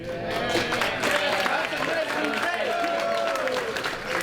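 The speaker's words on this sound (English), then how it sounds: "Give her a round of applause, Ms. Cup." Applause from the audience at a high school football awards dinner, a steady wash of clapping filling the room while voices and cheers carry over it.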